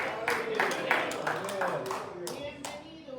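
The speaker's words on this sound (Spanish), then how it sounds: "Le damos un aplauso y Iglesia Cristiana lo dice." A church congregation claps in welcome for a visiting brother, a round of fairly close, distinct handclaps in loose rhythm, with people talking throughout underneath.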